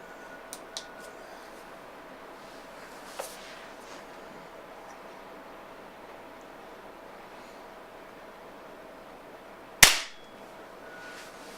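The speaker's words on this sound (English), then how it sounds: "Okay guys, first shot, low power settings." Single low-power shot from a Beeman P1 .22 caliber air pistol: one sharp, loud crack that decays quickly, standing alone against a quiet background with a few faint ticks earlier.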